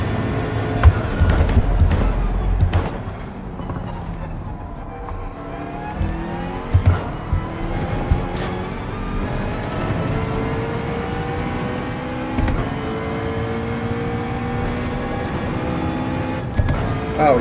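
Ferrari race car engine in Gran Turismo 7 revving and accelerating with shifting pitch sweeps, loud and continuous throughout, with brief tire squeal.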